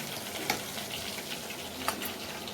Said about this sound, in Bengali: তো একটু ভেজে নিয়ে দিয়ে দিলাম একটু কাঁচা লঙ্কা